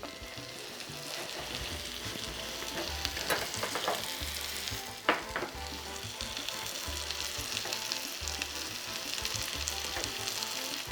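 Steady, dense sizzling of liver frying in butter in a hot pan, continuous and close, with a faint clink or two and no talking.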